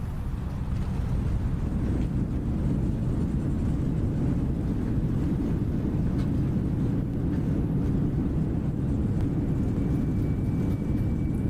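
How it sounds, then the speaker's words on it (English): Reverse thrust roars from an Airbus A320neo landing on a short runway at Belfast City in Microsoft Flight Simulator, a loud, steady low rumbling engine wash that holds unbroken throughout, with no voices. "reverses sets"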